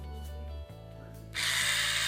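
A repaired electric toothbrush running, a steady close mechanical buzz that shifts pitch partway through and then rises into a louder, brighter whine, no talking.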